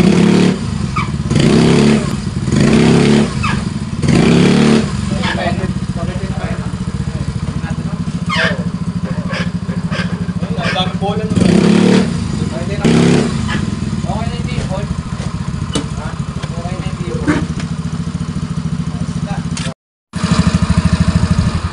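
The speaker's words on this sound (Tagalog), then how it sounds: "kung naririnig nyo naman po nagmi-minor na po yung motor ni boss" Yamaha Mio Soul i 125 scooter engine running close by, a steady idle broken by several short throttle blips, with someone talking over it throughout.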